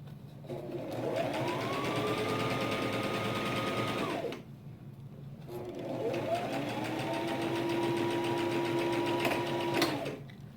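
A sewing machine stitches a wrap dress skirt in two long steady runs of close mechanical whirring, with a short pause between them.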